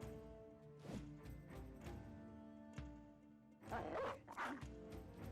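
Dog barks from a Battle Brothers game battle: several short yips and bow-wows scattered across the clip, with a louder flurry near the end over a steady droning game-music bed.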